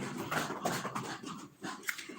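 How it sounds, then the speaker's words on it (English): A dog pants in quick, rough breaths while being chased by a cat, with a few faint whimpers mixed in, heard close and fairly quiet with no talk over it. "The cat's actually chasing the dog, believe it or not."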